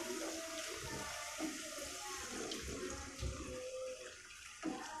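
Water pours and hisses into green chillies frying in a pan, a steady close rush of liquid and sizzle that runs for several seconds with no talking.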